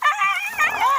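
A dog caught in a buffalo's horns lets out high, wavering whimpers and yelps in quick succession, loud and close, with no other voices.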